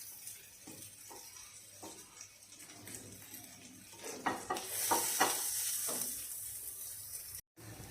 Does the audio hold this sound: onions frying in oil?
yes